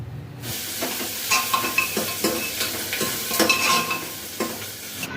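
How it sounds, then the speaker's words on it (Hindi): Onion and garlic tempering (chhonk) is added to a potato and vegetable curry, hitting the hot pan with a bright sizzle. Repeated scraping stir strokes follow, close and steady, with no talking. "तो चलिए अब सब्जी में लगाते हैं छोंक।"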